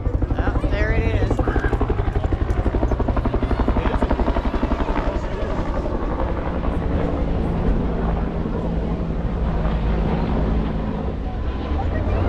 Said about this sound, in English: I hear the helicopter. It's a coming.